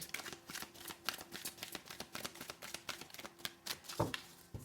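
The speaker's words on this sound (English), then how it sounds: "Let's pull out some more cards." Tarot cards being pulled and shuffled up close, a steady run of quick papery flicks and riffles with a denser snap near the end, and no voices.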